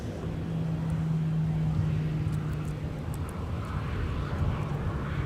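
A Sun Country airliner arriving from Tampa at Minneapolis–St. Paul Airport, heard as a steady broad jet roar with a low whining tone, continuous and moderately distant.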